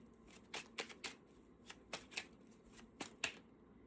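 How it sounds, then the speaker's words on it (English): Tarot cards are shuffled and flipped by hand, giving a quiet, irregular run of soft snapping riffles and flicks, about a dozen close crisp clicks with no voices. "And the cards are flipping."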